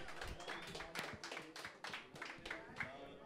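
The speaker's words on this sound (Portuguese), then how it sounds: "salva de palmas pros dois MCs!" Scattered clapping from the audience at a freestyle rap battle semifinal, individual sharp claps in an uneven rhythm heard close up, with voices talking underneath.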